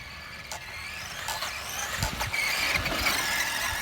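Traxxas Slash RC car fitted with a #5830 low-center-of-gravity chassis weaves through slalom cones, its electric motor whining with scrubbing tire noise, close and steady, growing slightly louder toward the end.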